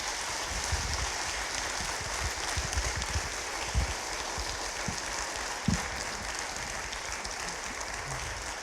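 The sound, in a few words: applause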